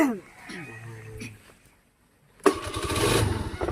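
A motorcycle with a loose electrical contact that keeps stalling cranks and fires into a rough running engine in the last second or so, preceded by a quiet pause and a speaking voice.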